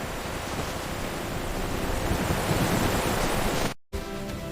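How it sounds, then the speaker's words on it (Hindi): Heavy rain pouring in a forest with flood water rising, a dense loud roaring wash that continues without a break, then cuts out briefly and resumes. "कुछ हफ्ते बाद जंगल में अब तक की सबसे भयानक बारिश हुई।"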